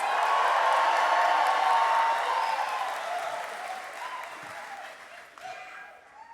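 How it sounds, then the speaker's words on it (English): A large convocation audience applauds and cheers loudly, a dense wash of clapping that slowly fades over several seconds, with a few scattered claps and whoops near the end. "let's hear an even bigger cheer"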